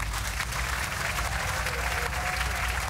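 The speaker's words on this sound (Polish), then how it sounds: "Wielkie brawa dla nich!" A studio audience at a televised brain-teaser game show claps in sustained, dense applause, loud and even across the whole stretch with no voices standing out.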